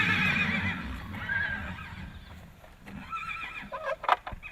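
Horses reunited with family members neigh and whinny loudly up close, a long shrill call followed by shorter whinnies and snorts, with light hoof clopping and no talk.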